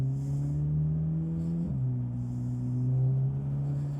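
A Chevrolet Corvette Z06 engine accelerating in sport mode, heard from inside the car as a steady rising drone broken by a quick gear shift midway before climbing again, loud and close.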